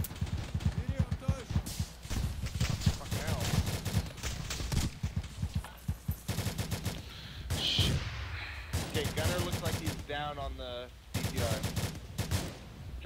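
Video game combat in ARMA 2 with an RPG launcher firing among bursts of gunfire, dense explosive reports and rapid shots mixed with voices speaking over the action.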